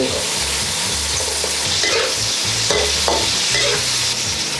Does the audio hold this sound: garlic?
yes